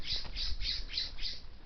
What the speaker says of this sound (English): that's what a western scrub jay sounds like